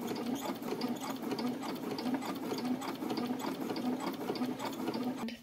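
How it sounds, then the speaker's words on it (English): A sewing machine runs a continuous straight stitch along a shirt edge, its needle clattering in a rapid, even rhythm with a whirring motor, close up and steady for several seconds. "now I'm ready to take it to the sewing machine and stitch right along this edge"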